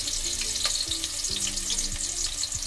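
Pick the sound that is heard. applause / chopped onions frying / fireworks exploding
chopped onions frying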